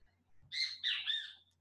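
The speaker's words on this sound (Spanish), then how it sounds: "Perdón por el pito güey, no es mío" A great kiskadee (pito güey) gives a short, shrill two-part squawking call, fairly close and clear against near silence.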